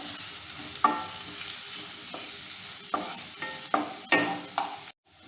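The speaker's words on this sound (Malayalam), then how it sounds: "ഇനി ഇതൊന്ന് വഴറ്റി കൊടുക്കാം" Chopped onions sautéing in oil in a pan for bitter gourd thoran, a soft continuous sizzle broken by several distinct spatula scrapes and stirs, stopping suddenly at the end.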